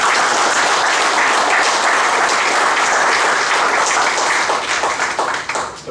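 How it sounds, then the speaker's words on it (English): An audience breaks into sustained, dense applause with many hands clapping at once. The sound is loud and close, then thins out slightly toward the end. "So how about a round of applause for each of you?"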